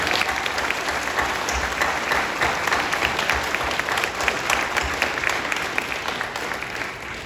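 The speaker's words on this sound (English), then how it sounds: "a big round of applause for them." Steady, dense audience applause at a live webcast event, many hands clapping evenly with no pauses across the whole stretch.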